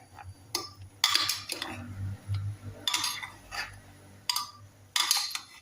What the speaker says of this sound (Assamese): এনেকৈ লৰাই দিম লাহেকৈ।